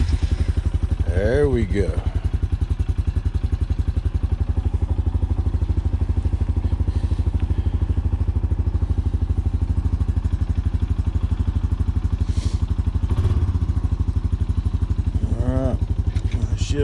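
A Honda ATV engine, choked for a cold morning start high in the mountains, catches and settles into a steady, close, rhythmic putter that runs throughout, with someone speaking briefly over it.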